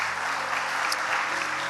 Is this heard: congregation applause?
yes